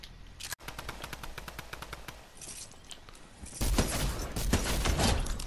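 Rapid automatic infantry rifle fire in Fortnite Battle Royale, a steady stream of shots running the whole time and growing louder and denser toward the end, with no talk.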